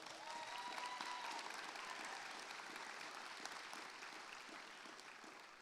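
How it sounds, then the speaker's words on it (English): A high school commencement audience applauds, a steady, fairly distant wash of clapping that slowly fades. "Can we give her a big round of applause?"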